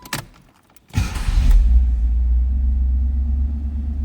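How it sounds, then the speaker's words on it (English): A few clicks and a short cranking burst, then a 1984 Pontiac Firebird Trans Am engine catches and settles into a steady, low idling rumble, close by. "start it up. Let's hear it run."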